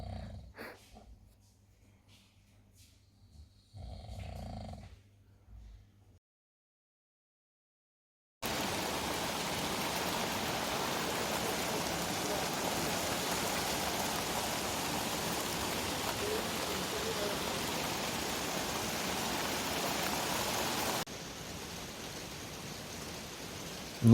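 Heavy rain pouring down in Barcelona, a dense, steady broadband hiss that starts abruptly after a few seconds of quiet and faint movement, then holds loud and unbroken to the end.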